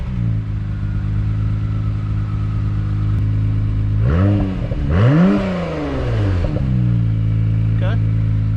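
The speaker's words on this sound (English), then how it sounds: "we're gonna get a cold start of the Acura. Bear in mind, this is a V6." An Acura NSX V6 engine cold-starts with a sharp whirring crank and then a loud rising flare of revs before settling into a steady, high-idling hum, close up.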